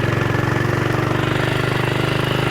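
A BSA 441 Victor single-cylinder motorcycle engine runs steadily and loudly up close with a fast, even thumping pulse.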